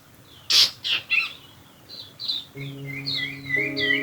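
Clear bird whistles and chirps, a few loud calls early then a run of shorter high tweets, with a faint steady hum underneath.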